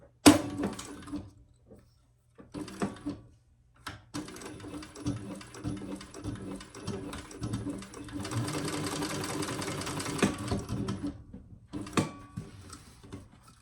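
Sewing machine stitching a couple of straight rows on a diaper backpack, a rapid mechanical whirring run in several bursts with short pauses between, steady and close.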